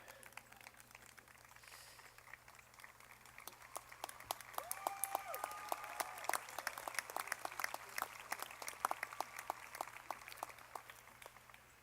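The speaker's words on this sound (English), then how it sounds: "We'll give them an applause, that's okay." A commencement audience applauds Bachelor of Arts degree candidates, a steady wash of many clapping hands that swells partway through and carries on at a moderate distance with faint voices underneath.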